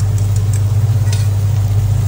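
Beaten egg poured into hot fried rice with shrimp in a wok, giving a steady close sizzle over a constant low hum, with faint scraping ticks and no talk.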